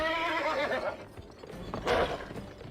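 A horse in the video game GUN whinnies loudly near and at full level, then a second shorter burst follows after a brief lull, with faint mechanical clatter and no voices.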